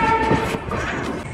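A Venkatadri superfast express passenger train on the Chittoor–Kacheguda route, arriving at Tirupati station, rumbles steadily and loudly with a brief tonal horn-like whine near the start, with no voices over it.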